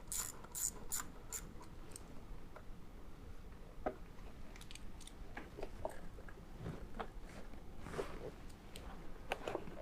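Quiet, intermittent ratcheting clicks and small metallic mechanism sounds come from band clamps being loosened on an S&B cold air intake in a 2019 Ford Raptor engine bay.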